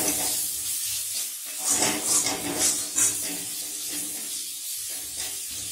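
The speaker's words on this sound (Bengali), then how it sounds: "এটাকে একটু ভালো করে কষিয়ে নেব।" Chicken rezala masala being sautéed in a pan with cumin powder and garam masala: a steady close sizzle with scraping stirs and a few louder hissing bursts partway through.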